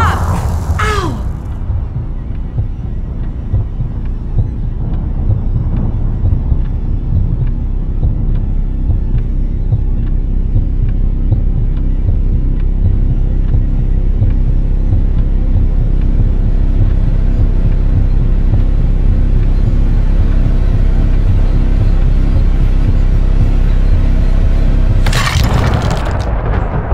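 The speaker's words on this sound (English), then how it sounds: "Relax, it's just thunder." Thunder rumbles continuously and loudly inside an old building, a deep rolling roar that persists throughout with a sharper crack near the end.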